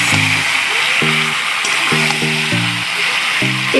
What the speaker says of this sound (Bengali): এবারে এর মধ্যে আমি আলু আর পেঁপেগুলোকে দিয়ে দিচ্ছি, দিয়ে এটাকে আবার 2-3 মিনিটের জন্য ভালো করে একটু নেড়ে চেড়ে নেব।